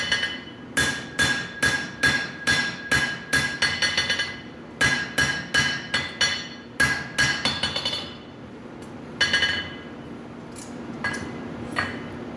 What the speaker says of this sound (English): a little bit of light taps just to bring that tip down a little more